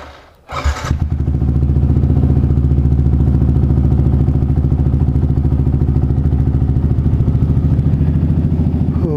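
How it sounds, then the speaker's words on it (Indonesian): A motorcycle engine cold-starts with a short cranking burst, then settles into a steady, loud idle with an even, rapid putter that holds for several seconds as it warms up. "saya mau panasin motor dulu nih"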